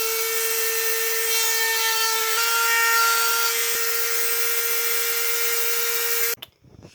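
A plastic guitar pickguard is trimmed against a second pickguard used as a template, a steady, loud, high tool whine holding for about six seconds before cutting off abruptly.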